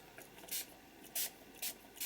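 A spray bottle spritzes peacock feathers colour ink over a paper card in three short, quiet hissing bursts with pauses between them, and no talking.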